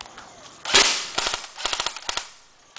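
An all-metal M4 toy rifle fitted with a box magazine and grenade launcher fires close by: one loud crack, then several quick bursts of sharp snapping shots, with no talk over them.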